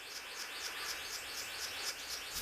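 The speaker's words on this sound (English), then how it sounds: "A male bluebird of paradise is advertising for a mate." A male bluebird of paradise calls during his mating display, giving a faint, rapid series of repeated high chirping notes in a steady rhythm over a constant background hiss.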